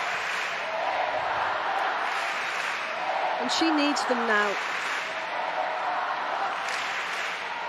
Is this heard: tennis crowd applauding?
yes